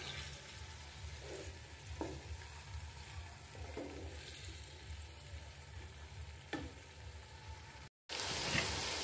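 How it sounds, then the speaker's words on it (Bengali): Masoor and mung dal being dry-roasted in a pan for a winter vegetable khichuri, with soft continuous sizzling and occasional stirring scrapes close by, steady and fairly quiet throughout. "মসুরির ডাল আর মুগের ডাল। আমি ডালটাও একটু আবার কষিয়ে নিব।"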